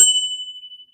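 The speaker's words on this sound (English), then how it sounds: "hit that notification bell." A bright notification-bell ding strikes once and rings out as a clear, sustained tone that slowly fades over about a second, with a faint second tap near the end.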